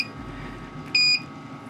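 A Samsung automatic OCTA disassembler gives a single short, bright electronic beep at completion, clear over a low steady machine hum.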